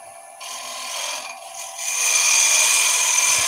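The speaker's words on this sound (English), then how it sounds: "now I'm going to do a finishing cut here" A wood lathe turning a potpourri pot during a finishing cut, with a steady mechanical whir that swells into a loud, bright, continuous scraping hiss as the tool meets the spinning wood.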